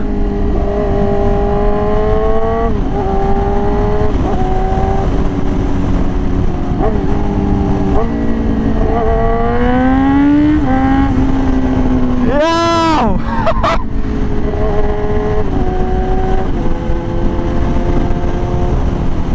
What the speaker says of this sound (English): the pops on the downshifts are crazy.